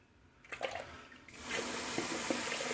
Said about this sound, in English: Having to do a little extra rinsing on the razor because it made this lather thicker today.